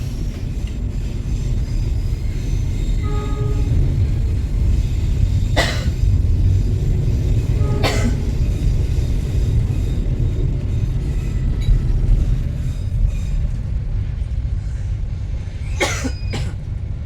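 The Pangrango passenger train running on rails, heard as a steady loud rolling rumble from inside the carriage, broken by a few sharp brief clanks and squeals, with no talk.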